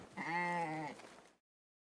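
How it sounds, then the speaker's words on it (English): A single sheep bleat, clear and close, a wavering tonal call lasting about a second before cutting to silence. "It's a sheep."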